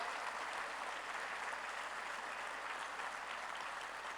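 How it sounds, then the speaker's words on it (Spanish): A church congregation applauds the Lord in a steady, even wash of clapping that sounds faint and distant and never breaks for the whole stretch. "Aplauda, pero como debe de aplaudir al Señor."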